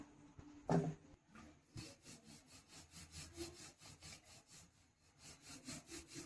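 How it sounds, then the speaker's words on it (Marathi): Rolling pin pressed back and forth over thin dough for bakery-style khari, a soft rhythmic rubbing swish repeating about twice a second, quiet and close, after a brief knock near the start. "एकदम बारीक पोळी लाटायची आपल्याला"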